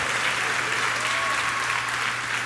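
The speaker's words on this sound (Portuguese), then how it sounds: "dá uma salva de palmas ao Senhor" A church congregation claps in praise during a sermon, a full, steady wash of applause filling the room for the whole stretch, with faint voices mixed in.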